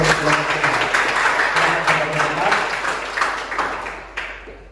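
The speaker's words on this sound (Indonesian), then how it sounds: "Terima kasih, tepuk tangan untuk" Participants at a group-work session clap for group 5 after its presentation, a short burst of applause that fades over a few seconds, with speech heard alongside it.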